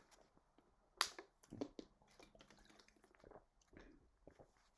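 Someone pauses while reading a Halloween book aloud to take a drink of water, with quiet close-up sips, a sharp click near the start, soft swallowing and wet mouth sounds, and no speech.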